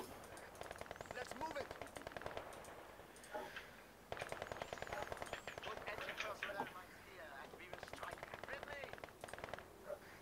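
An MG34 machine gun fires in the strategy game Wikinger, with rapid rattling bursts of closely spaced shots in long strings over several seconds, while someone talks over it.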